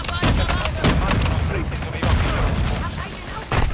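Rapid gunfire bursts from the multiplayer shooter Call of Duty: Modern Warfare II, loud repeated shots and booms packed close together over a few seconds, with a player's voice mixed in.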